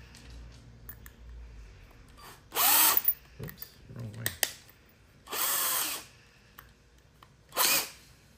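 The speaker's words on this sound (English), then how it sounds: "the drill needs to be in the undo mode" A handheld power drill run in reverse to back out a stripped screw, whirring in three loud bursts of about half a second to a second, with clicks, knocks and handling noises between them, close up.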